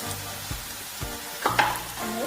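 Coconut oil frying in a pan, a steady close sizzle with a few soft stirring clinks and crackles near the middle and end.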